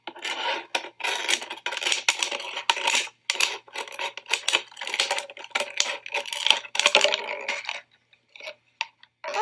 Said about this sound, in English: we can fit our scissors in and cut all the way around the water bottle until we have 2 pieces